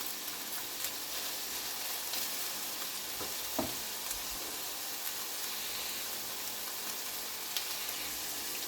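Chicken seasoned with pepper frying in a skillet, a steady close sizzle with occasional small pops and crackles throughout; no speech.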